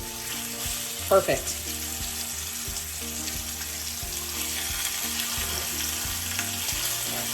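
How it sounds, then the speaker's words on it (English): Flank steak sizzles steadily in a hot cast iron skillet, with a brief clatter near the start and a single spoken word over the frying. "You hear that sizzle?"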